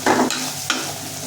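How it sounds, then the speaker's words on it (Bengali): Potato, beetroot and carrot pieces being stirred as they fry in a pan, with a short scrape and clatter over a close, steady sizzle lasting barely over a second. "যতক্ষণ না আলু আর বিট গাজরটা যতক্ষণ না একটু নরম না হচ্ছে ততক্ষণ এটাকে ভাজবো"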